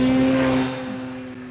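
An FMS Fox 3000mm RC model plane motor runs at full throttle, giving a loud, steady tonal whine with a strong propeller hum that eases slightly in level partway through.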